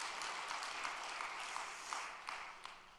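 Congregation applause in a church service honoring a deaconess, a steady wash of many hands clapping that slowly fades over a few seconds, with a few sharper individual claps near the end.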